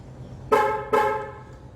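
A 2011 Hyundai Genesis car horn, set off by holding the smart key, gives two short, loud honks in quick succession. No one speaks.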